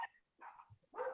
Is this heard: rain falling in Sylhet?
no